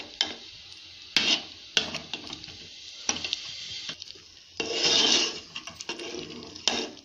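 A ladle works a cooked sago flour mixture with green chili paste, ginger paste, salt and cumin in a pot, giving repeated scraping, clinking strokes and bursts of sizzle at close range, no voices.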